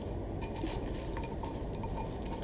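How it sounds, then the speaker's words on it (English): Leca clay beads and soil poured into a container, giving a dense, close rattling and gritty patter with a few light clinks, steady throughout. "now I'm going to throw in like a cup of soil."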